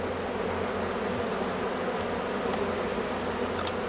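Honeybees of a new breed buzzing at an apiary, a steady, continuous droning hum that stays even and moderately close throughout, with no voices.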